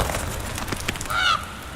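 A short honking bird call rings out once over a low ambient hum in the horror adventure game The Last Door, brief and moderately loud.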